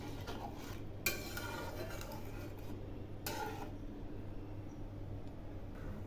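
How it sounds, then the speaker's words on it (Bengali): Spoon stirring spice masala and a little water in a cooking pot for rui fish curry, two brief scraping strokes a couple of seconds apart over a faint steady kitchen hum. "এবার আমি এর মধ্যে অল্প পরিমাণ জল দিলাম। একটু নেড়ে দিচ্ছি।"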